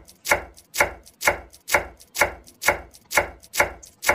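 A knife chops a washed onion on a board in a steady, even rhythm of close, crisp strokes, roughly two per second. No one speaks.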